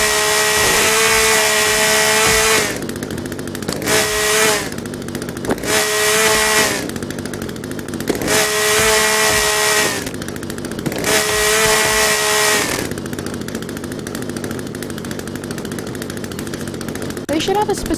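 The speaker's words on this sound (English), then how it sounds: "They should have a specific volume control for this stupid chainsaw." A loud chainsaw in the video game The Forest revs up and down in repeated bursts, roaring high then dropping to a rough idle several times, close and harsh throughout.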